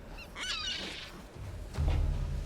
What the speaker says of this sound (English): there's a seagull.